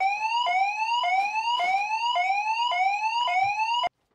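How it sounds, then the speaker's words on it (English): A home security alarm, set off falsely, wails loudly in repeated rising sweeps, about one every half second, steady and close, then cuts off abruptly. "That was a false alarm."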